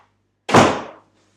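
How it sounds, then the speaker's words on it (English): A door being closed indoors: a single soft thump with a short whooshing decay, loud and alone against near silence. "I'm going to close the door here"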